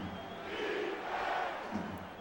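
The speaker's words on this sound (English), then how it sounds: "As the crowd chants." Stadium crowd chanting in an NFL football video game, a steady broad roar with rhythmic swells of voices throughout, moderately loud and continuous with no announcer talk over it.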